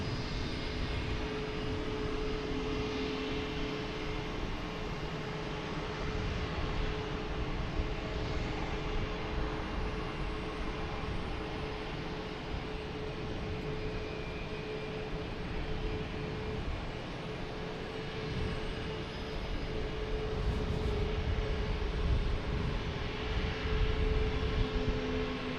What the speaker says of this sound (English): we got JetBlue coming in from San Francisco, an A321neo